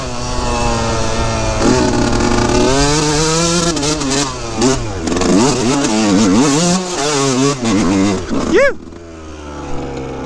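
A motorcycle attacks a steep dirt hill climb near Dillon, Colorado, its engine revving hard and close, pitch surging and dropping repeatedly as the throttle is worked, with a final sharp rev before it drops away.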